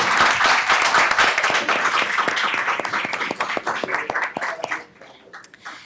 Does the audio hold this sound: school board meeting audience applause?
yes